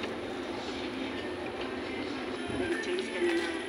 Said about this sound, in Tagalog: We are in Marine Terrace MRT station.